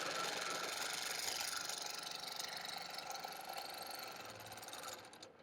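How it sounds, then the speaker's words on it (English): A quilting sewing machine runs steadily as it locks its stitches, producing a fast, even mechanical whir that tapers off and stops at the end. "So I'm going to lock my stitches."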